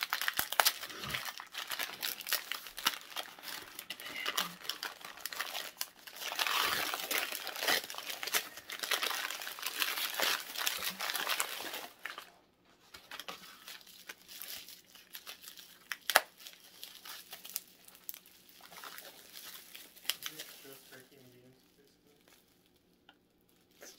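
Wrapping on a gift is unwrapped with quiet, close crinkling and rustling that comes in irregular bursts, louder at first and then thinning into sparse crackles before fading near the end.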